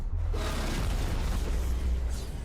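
Explosion effects from the video game Legends of Runeterra: a deep, rumbling boom with dense low-end roar and a swooshing burst that sustains for a couple of seconds.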